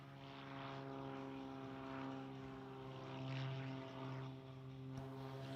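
Propeller drone of the Fury 2.0 aerobatic aircraft taking off and rolling at an air show, a steady, moderately distant engine note that swells and fades gently throughout.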